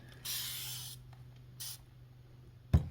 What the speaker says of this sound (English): spray it with some starch,